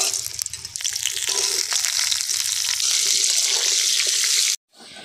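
Potatoes frying in a pan for aloo dum on a rooftop cooking setup, giving a steady, close, loud sizzle that holds throughout before cutting off abruptly near the end.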